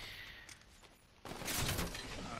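Video game gunshots: faint scattered pops, then a sudden louder burst of gunfire that keeps rattling until the end.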